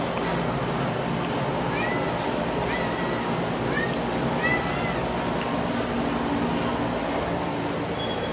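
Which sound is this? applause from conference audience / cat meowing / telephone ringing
cat meowing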